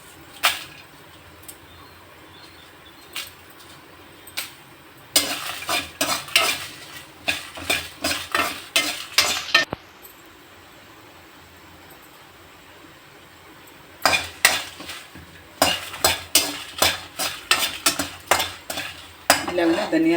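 Dried red chillies frying in a pan for chicken masala curry, a spoon stirring and clattering against the metal in two quick rhythmic runs, with quieter spells and scattered taps between them.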